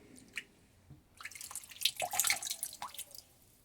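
Water drips and trickles off a wet piece of cotton fabric being wrung out, with scattered splashy drops that thicken into a steadier patter midway, close and moderately quiet.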